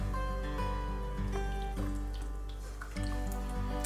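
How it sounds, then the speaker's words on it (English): Water trickles and drips while a gravel vacuum drains a small Top Fin 2.5 gallon aquarium with a sand bed, a steady close wet flow over a constant low hum. "So now we're just gonna start removing the water."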